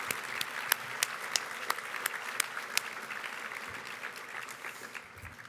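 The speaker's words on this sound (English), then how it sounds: "all please stand up and get a much-deserved round of applause?" An audience at a technology alliance luncheon applauds event staff, a sustained round of clapping with several sharp individual claps up front, gradually thinning and fading toward the end.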